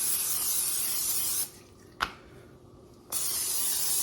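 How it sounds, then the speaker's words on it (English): A can of cooking spray hisses onto a cooking surface in two steady bursts, separated by a short quiet gap with a single small tap. "A little bit of cooking spray"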